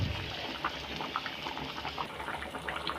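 Cauliflower kuzhambu curry simmering in a pot, a steady low bubbling with small scattered pops close by, continuous and fairly quiet.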